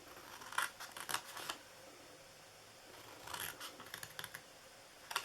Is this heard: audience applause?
no